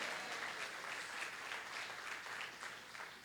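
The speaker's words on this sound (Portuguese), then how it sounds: "Então dê uma salva de palmas para Jesus. Bata a palma e glorifique ao Senhor." A church congregation claps their hands together in praise, a dense and steady patter of many hands that carries on without a break throughout.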